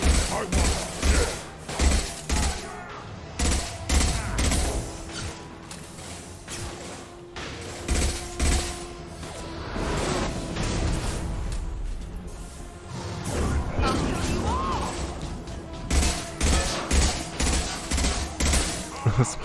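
Machine gun fire in the video game Mass Effect 2 Legendary Edition: repeated bursts of rapid shots with crashing impacts, broken by short pauses, under busy combat noise.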